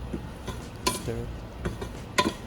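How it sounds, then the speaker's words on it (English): Pesto spaghetti with Atlantic salmon being stirred in a pan, with soft scraping and clinking strokes at irregular intervals over a faint background hiss. "Now, give it a proper stir."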